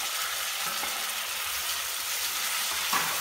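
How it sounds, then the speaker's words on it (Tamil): Soaked soya chunks sauté in oil and butter over medium heat, giving a steady low sizzle with a few clicks of stirring, heard alone without speech. "இதை கொஞ்சம் நேரம் நல்லா இது போல வதக்கிக்கலாங்க"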